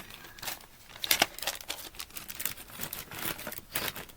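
Double-sided adhesive tape on a papercraft card-making kit, torn off by finger, gives a string of crinkly, crackling rips and peels, with one sharper tear near the middle; close and fairly quiet, with no talking.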